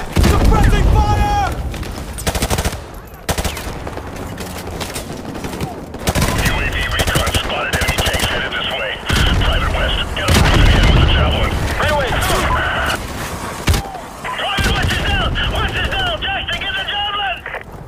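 Heavy automatic gunfire and booming shots from a Call of Duty: Modern Warfare battle ring out in loud repeated bursts, with short pauses between volleys and voices calling out over the combat.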